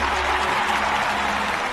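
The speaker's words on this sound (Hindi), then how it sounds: "ताली बजाओ, ताली।" Audience applause at a gathering, a dense continuous wash of clapping, loud and unbroken throughout.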